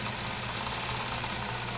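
Bernina Industrial 950 industrial sewing machine running at high speed, a steady, dense mechanical hum and buzz with fine rapid vibration, close and continuous with no pauses or voices.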